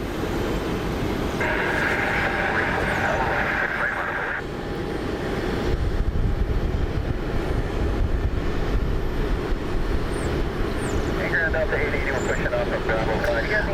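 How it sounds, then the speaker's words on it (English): A Delta Boeing 757 charter jet carrying the Green Bay Packers, heard near a Cleveland airport as a loud, sustained engine roar and rumble that holds steady, with voices talking over it. "Delta Flight 8862 757. It's the Green Bay Packers charter."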